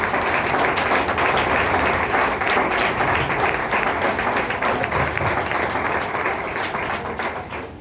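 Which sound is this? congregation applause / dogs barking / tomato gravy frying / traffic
congregation applause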